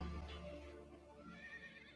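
A horse on a horse farm gives a loud whinny that trails off over about two seconds, with no voices.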